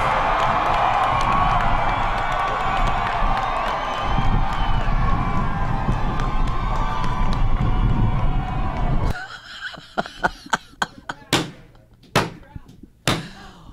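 A large crowd cheers and roars loudly and continuously for several seconds, then the noise gives way to scattered, sharp claps.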